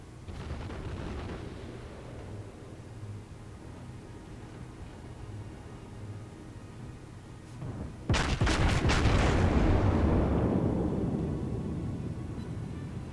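Naval guns firing in World of Warships during a USS South Carolina match: a dense, rumbling background gives way to one loud, close boom that rolls off slowly over several seconds.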